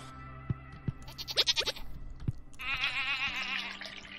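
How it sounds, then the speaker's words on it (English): Goats in the farming game Stardew Valley bleat in a quick series of wavering cries over low game ambience, with a dripping, watery sound and a few soft thumps around them. "And here we've got like 3 grown-up goats looking after the baby goats."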